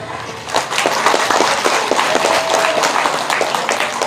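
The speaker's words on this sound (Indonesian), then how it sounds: "tepuk tangan" A crowd at a Sundanese comedic sermon in south Bandung breaks into applause, a dense, loud burst of clapping that starts after a brief pause and holds steady.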